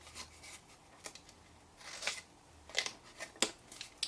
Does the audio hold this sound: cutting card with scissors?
yes